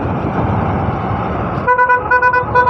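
On a street in Bistupur, Jamshedpur, India, loud traffic rumble gives way to a vehicle horn blaring in a series of short, rhythmic honks, close by.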